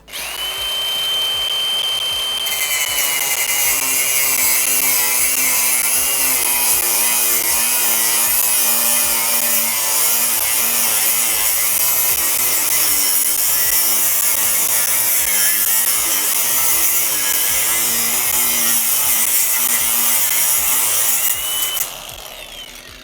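An angle grinder cuts through a steel motorcycle lock, a loud continuous high whine and metallic screech held close for about twenty seconds, its pitch wavering under load before spinning down at the end.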